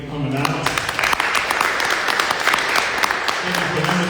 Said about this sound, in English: So again, give yourself a round of applause.